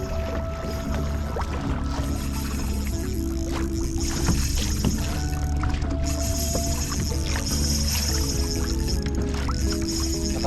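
A boat motor runs loudly and steadily throughout on a fishing trip after kingfish and stingray, a constant close droning roar mixed with water noise and no talk.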